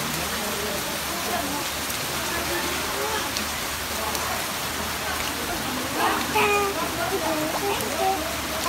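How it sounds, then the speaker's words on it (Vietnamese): Heavy rain pours steadily in a constant hiss at the Vuong Chinh Duc palace in Dong Van, Vietnam, with a few scattered voices and chirpy sounds rising briefly near the end. "Trời mưa rất to."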